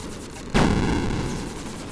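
A single sharp gunshot bursts out in the space game Approaching Infinity, a loud blast that decays into a rumbling tail over steady background game noise.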